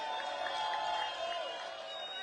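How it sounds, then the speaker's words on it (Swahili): A large crowd at a Raila Odinga opposition rally in Nairobi claps and cheers in a brief, steady roar that sounds somewhat distant and muffled. "Mjipigie makofi."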